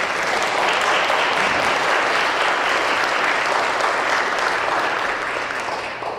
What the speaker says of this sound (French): Je pense qu'on peut applaudir toutes ces personnes.